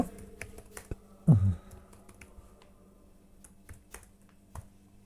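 Typing on a computer keyboard while entering a YouTube meta description, a steady run of light, close key clicks with one louder knock early on, no talking.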